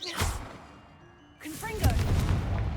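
Confringo fire spell explosions in Hogwarts Legacy: a sharp blast opens, then a brief lull and a second burst of booming, crackling impact noise with swooshing magic sweeps, loud and close.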